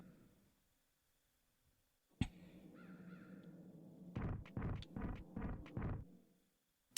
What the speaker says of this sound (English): I need to listen for the bird noises.